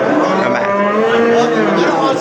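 Calves and cattle mooing at a livestock market, several overlapping low bellows close by, continuous and loud with busy background noise.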